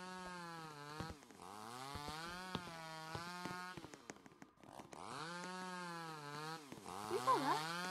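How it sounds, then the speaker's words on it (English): A chainsaw in the Roblox video game drones steadily with a harmonic buzz that holds for several seconds, dips briefly in the middle, then revs back up, loud and close. "Chainsaw, chainsaw."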